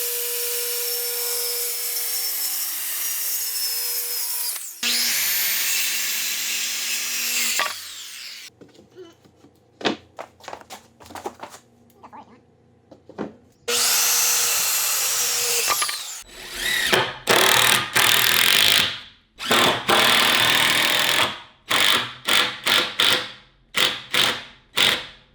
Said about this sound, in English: we're gonna chop our OSB down the middle